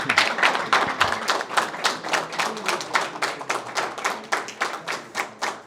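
An audience at a tax bar association tea for High Court and District Court executive bodies claps in a loose, rhythmic pattern, sharp individual claps and thuds pulsing steadily throughout, fairly close and alone without speech.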